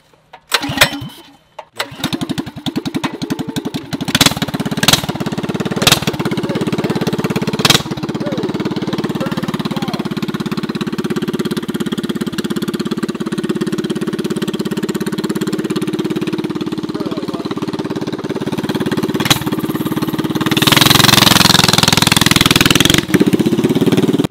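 A dirt bike engine, a 450, is started and left running: a few sharp cranking bursts, then a steady loud idle that holds for about twenty seconds and roughens into a harsher revving near the end.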